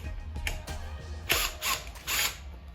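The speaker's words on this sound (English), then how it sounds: "I'm going to remove this cap, this insulating cap here, using 8mm." An 8mm ratchet loosens the nut on an insulating cap of a Lexus RX450h hybrid battery pack, with several short bursts of rapid pawl clicking close by, separated by brief pauses.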